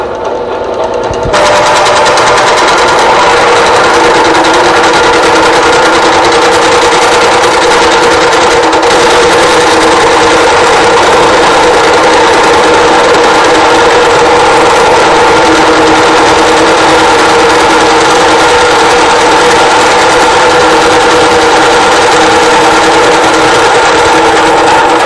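A tube notching machine cuts motorcycle chassis tubing with cutting oil, a loud, steady grinding whine that starts abruptly and runs unbroken to the end with no talking.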